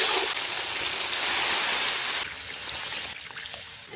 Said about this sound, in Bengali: মশলার সাথে মাংসটা সুন্দরভাবে কষানো হয়ে গেছে, এখন আমি সিদ্ধর জন্য দিয়ে দিব ঝোল।